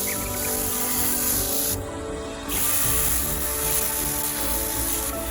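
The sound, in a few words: garden sprayer spraying water around plant base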